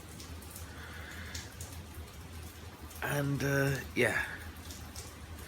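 Steady rain falls as Typhoon Lan approaches, a soft continuous patter heard faintly throughout, with a person talking briefly over it partway through.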